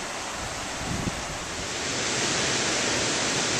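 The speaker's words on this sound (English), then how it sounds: "there's the river" A river rushes near Bernie Falls as a steady, full roar of broadband water noise that swells slightly toward the end, with no voices.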